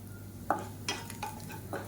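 Karuvadagam tempering frying in a pan for a kuzhambu, a low steady sizzle with a few sharp stirring scrapes and clinks spaced across the short stretch, close and moderately loud, no voices.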